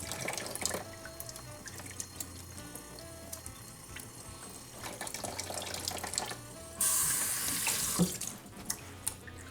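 A kitchen tap runs while mushrooms are rinsed, a steady hiss with drips and clatter, growing louder and fuller near the end as the flow strengthens.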